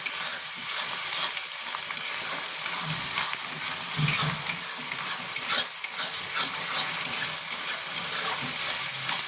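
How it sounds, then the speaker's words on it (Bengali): Pabda fish with coriander leaves being stir-fried in a pan, loud continuous sizzling with repeated scraping stir strokes growing busier toward the end, no speech. "ধনে পাতা দিয়ে একটু কষে নেব, তাহলে এর ভালো ফ্লেভারটা বেরোবে।"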